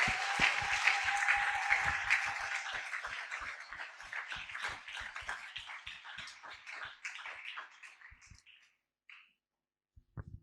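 A church congregation applauds and cheers in praise during a worship service, dense sustained clapping near the start that thins out and fades to scattered claps and silence by the end.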